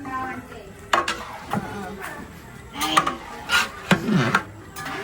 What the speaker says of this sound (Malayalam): നമുക്ക് ബിരിയാണി ഇളക്കാം.